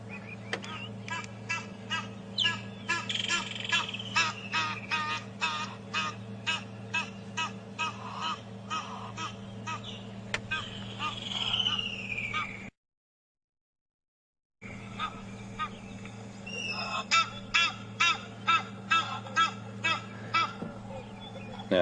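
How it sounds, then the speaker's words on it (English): Egyptian goose call played from a phone bird app during a safari drive at Djuma Game Reserve, a long series of repeated loud honking calls in rhythmic bursts over an idling vehicle hum, with a brief silent gap midway. "I'll just play you the call. I'm just using my app"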